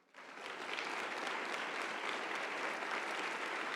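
A church congregation breaks into applause, the clapping swelling quickly from near silence and then holding dense and steady, fairly distant, with no voices standing out.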